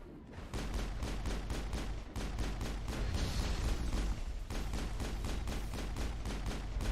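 Rapid, sustained gunfire from an overheating assault weapon in the sci-fi shooter Mass Effect, fired in the Eden Prime prologue, as a dense, continuous stream of close, loud shots running almost the whole time.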